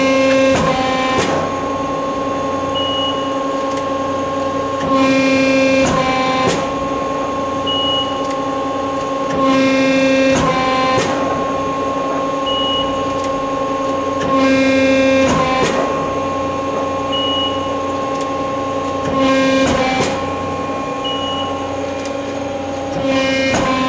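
An 8-foot Accurpress 60-ton CNC hydraulic press brake runs steadily, its loud mechanical hum with high tonal whine swelling and cycling roughly every five seconds, punctuated by short clunks and beeps as the ram moves, with nobody speaking.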